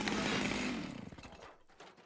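A chainsaw in an animated TV cartoon runs with a loud, buzzing whine for about a second, then sputters and fades out, ending in a short sharp click.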